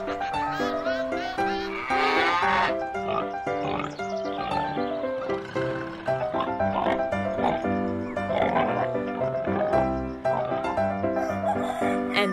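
A musical arrangement evokes a farmyard with sheep-like bleats and other animal-style calls woven through melodic instruments, the bleating tones rising over a busy, continuous accompaniment.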